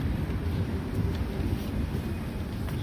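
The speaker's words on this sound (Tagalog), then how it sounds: "malamig na yung buga ng hangin dito" Low rumbling cold wind buffeting the microphone, a continuous blustery roar with no voices.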